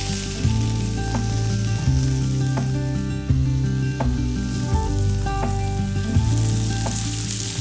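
Meat sears in a hot, uncrowded pan while browning for a stew, giving a steady, close, loud sizzle that runs unbroken with a low hum beneath it.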